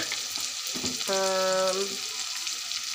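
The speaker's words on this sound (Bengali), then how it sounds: "আমার পেঁয়াজটা লাল হয়ে গিয়েছে। এর মধ্যে আমি শুটকিটা দিয়ে দিয়েছি।" Sliced onion and dried chepa shutki fish fry together in a pan for a spicy pea curry, with a steady close sizzle and a brief tonal hum partway through.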